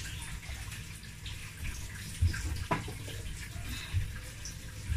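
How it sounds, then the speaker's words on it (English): Water sloshes and swirls steadily in a pot, with a brief clink of a utensil against metal partway through. "Look at me whisking water"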